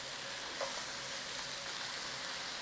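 Garlic frying and being stirred in a pan with a little salt, a steady close sizzle with faint scraping, constant and even throughout.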